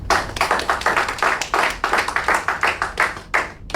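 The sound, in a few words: applause from audience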